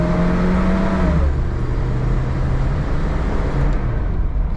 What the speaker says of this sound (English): This is foot all the way down.